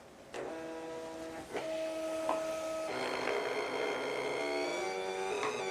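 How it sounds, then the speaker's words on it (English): A portable full-page thermal printer runs off a US letter page, giving a steady mechanical whir with tonal buzzing and a few clicks, close and continuous without talk. "I'm just going to hit US letter and print. Here we go. Printing 1 of 1, it says."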